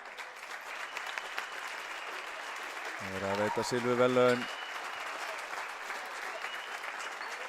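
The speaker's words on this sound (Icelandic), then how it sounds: "Keflavíkur, gefið þeim gott klapp" Applause for a girls' basketball team receiving silver medals, a brief burst of clapping lasting about a second and a half amid a hall's murmur, with an announcer speaking over the room before and after.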